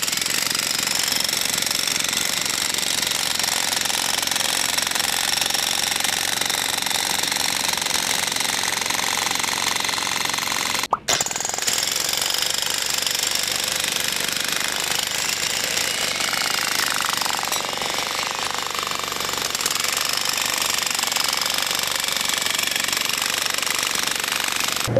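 A heavy 2600W electric demolition hammer pounds concrete continuously for the whole stretch, a loud, dense rattling hammer that cuts out for a split second midway, then resumes.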